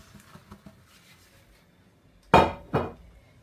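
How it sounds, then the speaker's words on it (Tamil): Broken nuts dropped into dates halwa in a pan, heard as two sharp, close hard knocks and clatters in quick succession after a quiet stretch with faint scraping. "இப்போ வந்து இதில் நாங்கள் ஒன்றும் பாதியமாக உடைச்சி வச்சுருக்கிற இந்த நட்ஸை வந்து இதில் போட்டுக்கொள்ளுவோம்"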